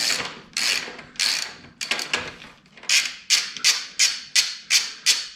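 A ratchet wrench works old bolts loose on a Ducati Hypermotard 1100, making close, crisp clicking bursts in a steady back-and-forth rhythm, around a dozen strokes, with no talk.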